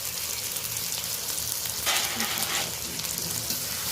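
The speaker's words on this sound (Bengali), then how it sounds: "এটা বেশ ভালো করে এই মশলাটা কষিয়ে নেব 3-4 মিনিট ধরে।" Spice masala with garlic and ginger paste frying in a pan for a country chicken curry, a continuous close sizzle with a brief stir-like burst in the middle and no talk.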